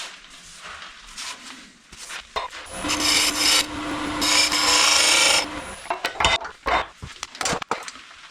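Wood lathe turning a tenon on a vase blank for a chuck, with loud rasping, scraping tool contact against spinning wood building over several seconds, then broken scraping bursts and clatter afterward.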